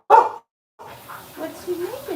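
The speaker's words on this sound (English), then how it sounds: "What's he barking at you?" A dog gives one sharp, loud bark up close. After a short pause, whining or voice-like sounds follow with someone talking nearby.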